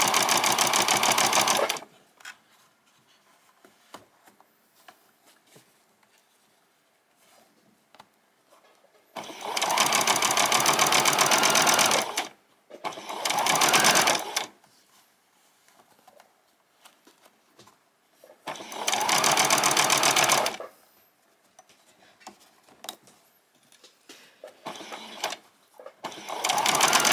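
A sewing machine stitches seams on pyjama bottoms in three loud, steady bursts of a few seconds each, with quiet pauses of rustling fabric between runs and a final burst starting at the end.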